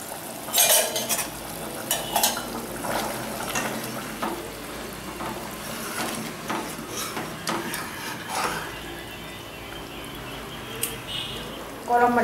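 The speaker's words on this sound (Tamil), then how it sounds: "குழம்பு நல்லாவே கொதிச்சிருச்சுங்க" Elephant yam curry (karunai kizhangu kulambu) bubbles in a pot while a utensil stirs and scrapes against it, soft crackling and sizzling under intermittent talking.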